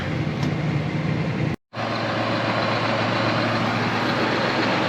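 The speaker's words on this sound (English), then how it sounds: "Probably be a good idea to let this tractor run for a while and let a system charge up." Farm tractor engine runs steadily after coming out of winter storage, a continuous broadband rumble with one brief cut near the start, close and even, with no talking.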